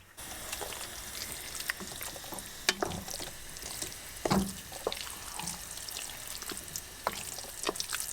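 Peppers and aubergine frying in oil for Croatian ajvar crackle and spit with a constant bright hiss, scattered pops and a few louder sputters, close by and fairly quiet.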